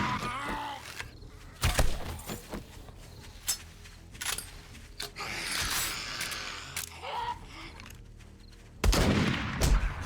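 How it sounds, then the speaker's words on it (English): Shotgun blasts in the zombie survival game 7 Days to Die, Darkness Falls mod: several loud, sharp booms spread across the stretch, the heaviest near the start and end, with busy game noise between. "Yep, shotgun time."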